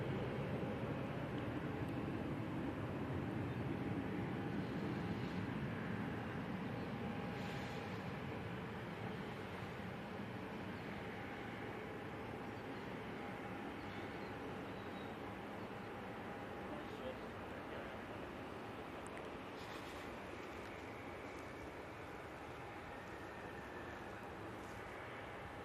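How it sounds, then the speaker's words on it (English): A KLM airliner comes in to land at Manchester Airport, a broad, steady jet roar heard from a distance that slowly eases over about twenty-five seconds while onlookers talk. "Oh, KLM, about to touchdown"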